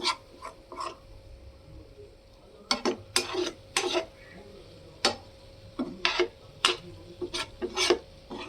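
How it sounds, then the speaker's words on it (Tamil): A spatula turns whole eggs in a thick masala in a pan, making irregular scraping and rasping strokes in short bursts, fairly close, with quiet gaps between them. "முட்டையை போய் கொஞ்சம் நேரத்துக்கு ஒரு தடவை இந்த மாதிரி திருப்பி விடுங்க, மசாலா ஃபுல்லாக இறங்கிறதுக்கு"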